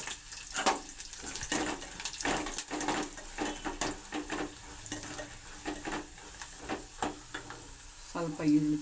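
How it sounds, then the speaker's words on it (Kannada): Chana dal frying in hot oil in a home kitchen while making masala chitranna, a soft continuous sizzle broken by scraping stirs of a spoon in the pan, fairly quiet and close. "ಎಣ್ಣೆಲಿ ಚೆನ್ನಾಗಿ ಬೆಂದರೆ ಚೆನ್ನಾಗಿರ್ತದೆ ಅದು. ಇದು ಕಡಲೆಬೇಳೆ ಹಾಕ್ತಾಯಿದ್ದೀನಿ ನೋಡಿ."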